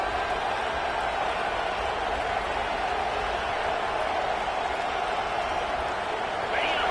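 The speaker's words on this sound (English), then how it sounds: "It's early, but this crowd is fired up. Listen to this noise here." A huge football stadium crowd roars continuously, a thick, unbroken wall of noise that fills the space and barely rises or falls throughout.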